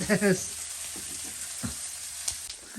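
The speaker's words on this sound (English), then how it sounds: "Rhoda is gonna keep stirring for 1 minute" Vegetarian rigatoni ingredients fry in a pan while being stirred, a soft steady sizzle with light scraping knocks and a brief voice at the start.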